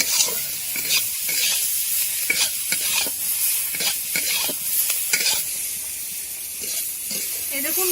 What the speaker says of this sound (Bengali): ঘাটকলগুলো আমি ভেজে নেব